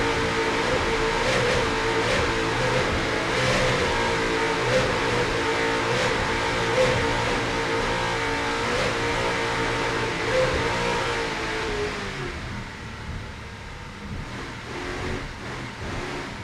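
Onboard the Drambuie on Ice race car driven by Hugh Fuller and John Tomlinson, the engine roars loud and close as it accelerates hard through the gears, then the pitch drops and eases off toward the end.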